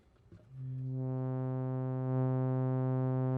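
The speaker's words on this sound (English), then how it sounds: "I'm using this DEPFA miniature synthesizer voice here" A steady oscillator tone from a miniature synthesizer voice, with a rich buzzy harmonic timbre, comes in after a brief rustle and holds at a constant pitch.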